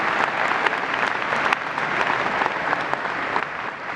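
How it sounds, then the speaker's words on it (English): A conference audience at a keynote session of the Innovation Summit Barcelona 2019 breaks into applause, with dense, fairly loud clapping that holds steady for several seconds. "you can give a round of applause."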